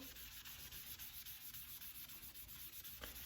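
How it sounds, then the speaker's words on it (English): Paint product rubbed by hand onto a wooden buffet table in a DIY makeover, a steady soft scrubbing and rubbing texture that keeps going close by with no voices. "I'm almost just gonna rub it in like I'm coloring"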